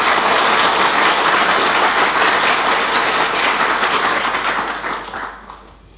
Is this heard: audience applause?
yes